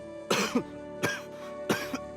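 Three sharp, harsh coughs while eating, spaced about a second apart, close and fairly loud, with no talking in between.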